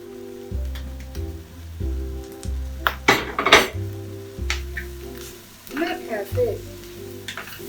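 Broccoli and peppers are added to a hot pan and cook with a steady sizzle, while a utensil clinks and scrapes against the pan several times and a voice speaks briefly over the frying.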